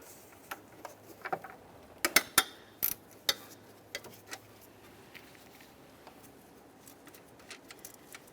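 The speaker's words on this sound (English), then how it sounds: "You're going to find a 17mm nut here. Go ahead and loosen that and remove the wire from the alternator." A ratchet loosening the 17mm nut on the alternator wire of a 2004–2010 BMW X3 gives quiet, close clicking in short bursts, with a few sharper clacks partway through and fainter ticks trailing off.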